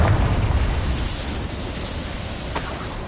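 A Confringo fire spell blasts in Hogwarts Legacy with a heavy, deep rumbling burst at the start that fades into a long, dull roar and hiss, loud and close.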